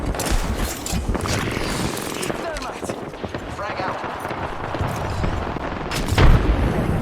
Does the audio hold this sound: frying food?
no